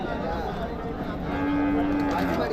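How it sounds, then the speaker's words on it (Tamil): A pair of draught bulls at the Uthangarai cattle market give a drawn-out low moo amid the crowd's steady murmur, with people talking close by. "நல்லா அருமையான ஏறு மாடுங்க"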